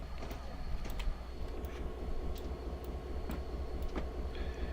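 A BNSF GP32 diesel locomotive in the Railworks train simulator runs with a steady low engine rumble and rolling rail noise, with occasional sharp clicks and a brief tonal squeal near the end, continuous and fairly close.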